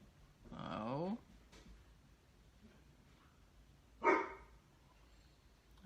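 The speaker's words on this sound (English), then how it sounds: "If they start with this barking" Two separate bursts of dog barking, a longer run near the start and a short sharp one a few seconds later, over a quiet room with faint background noise.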